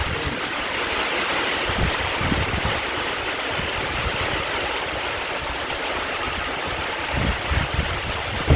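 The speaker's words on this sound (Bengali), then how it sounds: "এগুলো তো ছাটের জল।" Rain spray blows in from outside as a steady, close hiss of splashing water with scattered soft patters, continuous and without talk.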